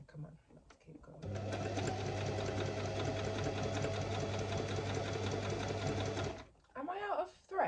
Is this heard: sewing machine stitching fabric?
yes